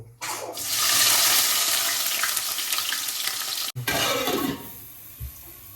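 Green chillies and onions tossed into hot oil give a loud, steady sizzle that surges as they hit the pan, with brief stirring scrapes and a short break near the end; no one talks.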